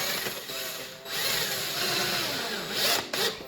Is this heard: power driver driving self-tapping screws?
yes